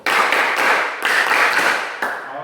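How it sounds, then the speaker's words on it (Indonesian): Students in a classroom clap together in a brisk, loud burst of rhythmic hand claps lasting a couple of seconds, with brief pauses marking the beats, given as a round of applause for a group. "sekarang kami tepukan 6 untuk kelompok 1"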